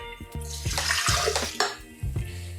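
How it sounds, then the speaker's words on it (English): Water splashes and pours into a blender for a couple of seconds, with a few hard clunks and knocks as it fills. "I have my blender ready and I'm gonna add 1 cup of water."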